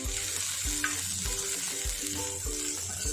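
Onion and bitter gourd bhaji sizzles steadily in a hot pan as it is stir-fried, with a continuous crackling fry and soft rhythmic scraping of the spatula every half second or so.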